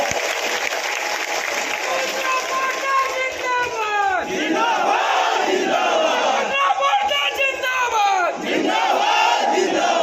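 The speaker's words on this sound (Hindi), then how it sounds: "कस के ताली बजाइए" Large crowd at a political rally in Surajpur claps and cheers, a continuous loud roar of shouting voices and applause swelling in waves throughout.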